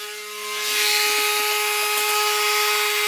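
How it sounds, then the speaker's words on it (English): A Dremel Stylus cordless rotary tool, stuck on and refusing to shut off, whines steadily with a high-pitched motor tone that rises in the first half second and then holds constant, close and alone. "while I was cleaning a model, I was using my Dremel stylus"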